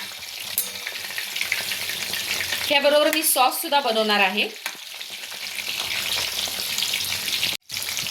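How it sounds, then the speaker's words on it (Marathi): Chicken lollipops deep frying in hot oil over a high flame, a steady close sizzle and crackle running throughout, with someone speaking briefly over it midway. "आता मोठ्या गॅसवर आपण हे तळू शकतो."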